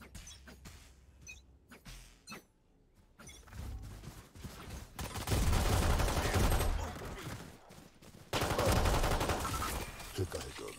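Bursts of rapid gunfire from the video game Valorant, loud volleys in the second half after quieter clicks and creaks, with no voices.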